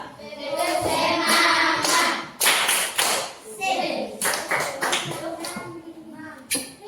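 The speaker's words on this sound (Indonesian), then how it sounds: "Ada yang tahu tepuk semangat?" Schoolchildren in a classroom perform a rhythmic spirit clap, bursts of group hand-claps in a patterned beat, with children's voices chanting and calling along close by.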